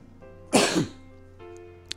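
A single harsh cough bursts out, loud and close, then fades into a quiet room, with a brief sharp click near the end.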